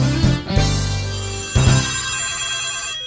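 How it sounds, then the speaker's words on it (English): A telephone rings for a listener call-in to a radio program, two loud electronic ringtone bursts close by, the second trailing off into a steady tone. "here's a woman phoning in to the program"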